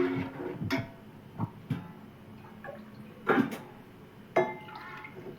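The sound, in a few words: water poured into Manchurian gravy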